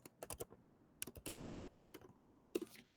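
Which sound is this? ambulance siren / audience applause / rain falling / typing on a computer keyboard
typing on a computer keyboard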